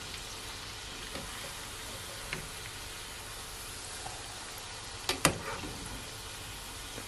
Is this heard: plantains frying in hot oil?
yes